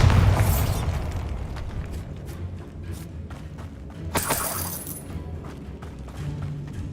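Casting the Bombarda spell in the Hogwarts Legacy video game sets off a booming explosion with a crackling, shattering burst, heavy at the start and with a second bright blast midway, over a low rumbling ambience.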